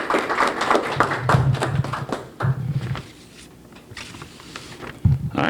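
Audience at a steakhouse lunch press conference breaking into applause, a few seconds of loose, uneven clapping close by that thins out, then a short final burst of claps.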